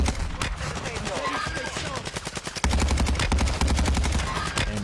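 Rapid automatic gunfire in a first-person shooter game, loud repeated bursts with a brief pause midway, while a voice talks over the shooting.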